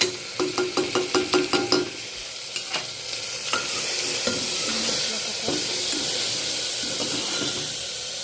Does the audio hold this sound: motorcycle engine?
no